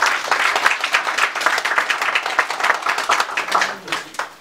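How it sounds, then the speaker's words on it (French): A dense burst of audience applause for a speaker at the official launch of the Congo Fort association, held in Tshisekedi's presence. Many hands clap steadily and close for the whole stretch, thinning slightly toward the end. "Est-ce qu'on peut l'applaudir parce que..."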